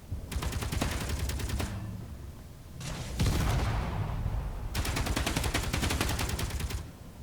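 Bursts of rapid, rattling Gatling gunfire from a rotary cannon in the game Space Engineers come in three long volleys, loud and mechanical, with a deeper roar between bursts.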